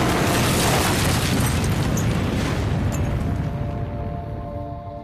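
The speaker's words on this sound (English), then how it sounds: "there was a massive train explosion in northern North Korea" A massive train explosion in a remote northern North Korean town: a loud, sustained roaring boom that rumbles on and slowly fades over several seconds.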